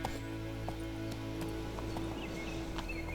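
Roach the horse gallops through The Witcher 3 video game. The hoofbeats make a steady clip-clop over a low, quiet game soundtrack, with faint scattered effects on top.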